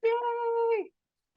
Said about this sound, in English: sorry for the cat in the background